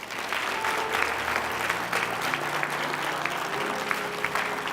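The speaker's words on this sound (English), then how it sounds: "Could you please give them all a round of applause?" An audience applauds seventh graders being honored at a police and fire department Black History Month celebration, with steady, even clapping throughout and no voices over it.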